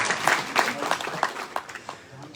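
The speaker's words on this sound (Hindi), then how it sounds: "इसके लिए भी ताली बजाओ।" Students at KPGU, Vadodara clap together in a hall, a steady patter of many hands that swells and eases over a couple of seconds and carries some background chatter.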